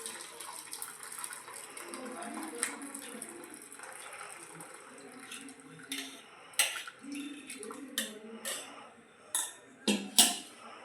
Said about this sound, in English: Now let me transfer it to a bowl